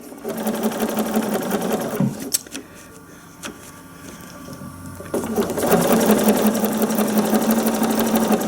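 A domestic sewing machine doing ruler-work quilting runs in a steady fast stitching whir, stops briefly for a few seconds of quiet clicks, then starts again louder and continues to the end.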